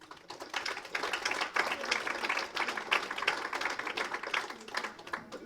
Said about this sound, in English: So a round of applause for Richard.